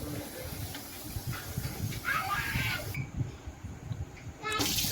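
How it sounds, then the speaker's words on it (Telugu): Oil in a cooking pan with a little water in it sizzles and hisses steadily, close and quiet, with a brief higher crackle partway through and a voice faintly in the background. "సొర్ర ఉంటుంది కొంచెం లోపల వాటర్ ఉంటే."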